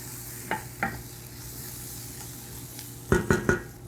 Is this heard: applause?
no